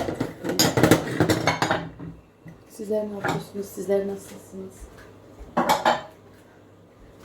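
Dishes and cutlery clatter and clink as they are handled and stacked, in several bursts, while someone talks in between.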